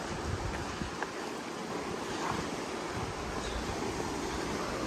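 Steady broadband rush of the fast-flowing Verde River running high, a dense continuous roar heard close by without pauses, mixed with some wind buffeting on the microphone.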